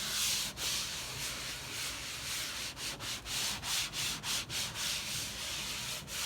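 The scratchy side of a sponge is worked hard across a white plastic table to lift crayon marks, producing a steady, close abrasive rubbing that breaks into a rhythmic series of quick back-and-forth strokes with no voice.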